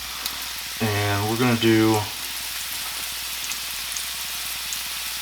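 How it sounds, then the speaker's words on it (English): Meatballs searing in a thin layer of oil in an iron skillet, a steady close sizzle and crackle throughout, with someone briefly speaking over it. "I'm going to add a couple of my meatballs. I won't be able to fit them all in here. I've got a little layer of oil in the bottom too."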